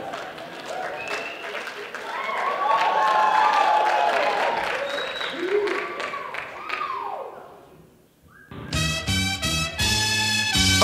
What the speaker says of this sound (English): Let's give a round of applause for these guys.